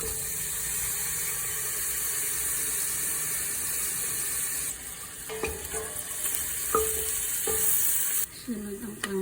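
Garlic and onion fry in cooking oil in a pan for Filipino sopas; a steady, close hiss runs under occasional clinks and stirring knocks toward the end, with no speech.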